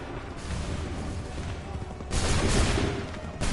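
A ragged volley of musket fire from massed soldiers in Assassin's Creed III erupts as a dense, loud crackling roar, swelling partway through and then surging again near the end.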